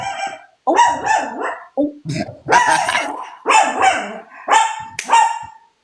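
Dog barking loudly and close by, a rapid string of sharp barks with brief gaps and a rough, growling edge.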